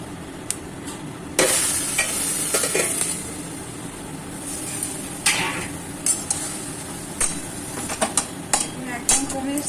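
Mustard flower curry sizzling and frying in a pan as it is stirred, with a steady frying hiss broken by repeated scraping stirs and clinks of the spoon.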